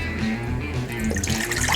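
Tap water runs steadily into a saucepan as about a liter is poured for boiling to make oregano tea, a close, continuous splashing stream with no talking.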